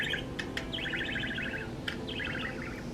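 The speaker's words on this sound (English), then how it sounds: "I have a bird." A pet bird loose in an indoor room gives a few short chirps, then two rapid trilling bursts of tweets, close by over a steady low background hum.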